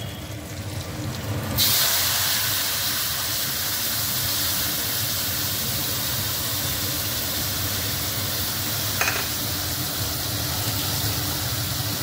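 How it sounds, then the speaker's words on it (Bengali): Ground cumin, coriander, chili and turmeric hit hot oil in a pan with a sudden loud sizzle that settles into a steady, even hiss lasting several seconds, with one faint tap partway through. "এবার ফোড়নটা একটু ভেজে নিয়ে এই যে তোমাদের মশলাটা করে রেখেছি, জিরে, ধনে, লঙ্কা আর হলুদ গুঁড়ো, তো এটা এবার দিয়ে দেবো।"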